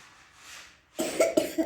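After a quiet moment, a child coughs several times in quick succession, close and moderately loud.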